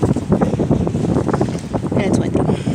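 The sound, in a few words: wind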